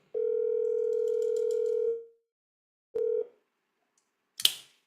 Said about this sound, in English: let's see if we can get him on the phone.